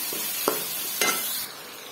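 Vegetables with garlic fry in a pan, giving a steady close sizzle throughout, with two short scraping stirs of a spoon partway through and no talking.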